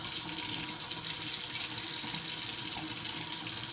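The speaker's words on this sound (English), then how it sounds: "Turn the hot water on." Hot water gushes steadily from a sink faucet into a basin for washing plates, a continuous close splashing hiss with no talking.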